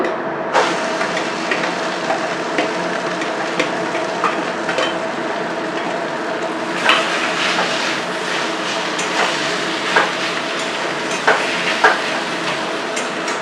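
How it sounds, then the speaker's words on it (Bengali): Potatoes stirred and fried in oil in a wok after a fenugreek tempering, giving a steady sizzle with scraping stirs and occasional clinks throughout, close and fairly loud with no talk. "ভালো করে নেড়ে নিচ্ছে এরপর আলুটা দিয়ে দেবো কড়াইয়ের মধ্যে"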